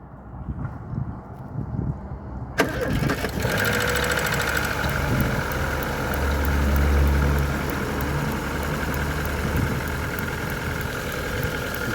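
A 1.8-litre petrol car engine cranks with a sharp jolt, catches and settles into a steady, loud idle that hums on.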